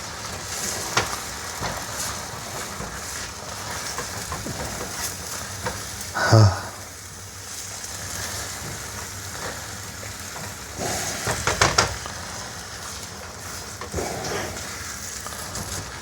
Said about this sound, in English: how I kind of come in here and scrape it all up with the spatula and, you know, chop it and dice it